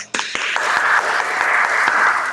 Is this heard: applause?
yes